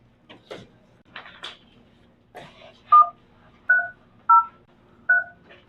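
Telephone keypad tones on a speakerphone, several short, loud beeps in an even sequence after a few softer clicks and key presses in a quiet room.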